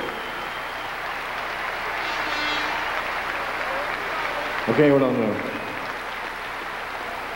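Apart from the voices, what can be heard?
audience applause at kickboxing event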